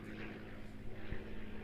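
A light Cessna propeller airplane drones steadily overhead above woods, a faint distant hum that stays even throughout.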